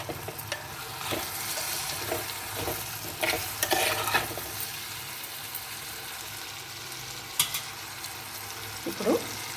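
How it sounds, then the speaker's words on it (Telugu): Drumstick (moringa) pieces frying in a curry pan with fried onion, salt, chili and turmeric, stirred with repeated scraping strokes over a continuous soft sizzle, close up and without talk. "ఇప్పుడు ఇందులో ములక్కాడ ముక్కలు వేస్తున్నాను."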